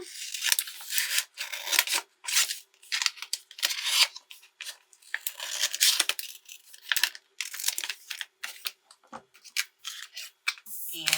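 Scissors trim transfer tape for a Cricut craft project, with a series of short, close snipping and rustling bursts separated by brief pauses.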